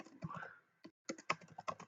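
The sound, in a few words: typing on a new computer keyboard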